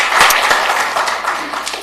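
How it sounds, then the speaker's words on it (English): Brief burst of audience clapping in a city council chamber during a committee meeting, fairly loud at first and tapering slightly over under two seconds. "We do not allow applause in the council chambers"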